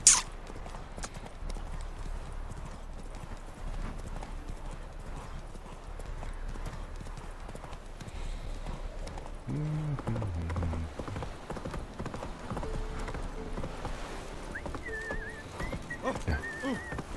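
Horse hooves from The Witcher 3 video game beat in a steady, rhythmic clip-clop for the whole ride, fairly close and even in level, with faint other game sounds joining later.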